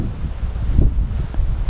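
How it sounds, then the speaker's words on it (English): Steady, strong wind blows through rocking trees outdoors, a loud low rushing roar with gusty swells, largely buffeting the microphone. "the wind is blowing today"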